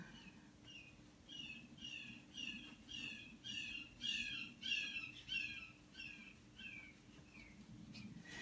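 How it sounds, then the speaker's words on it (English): A bird calling out in a yard, a steady series of repeated chirping notes, fairly distant and soft over a low background hum. "that was, you know, a bird out in the yard"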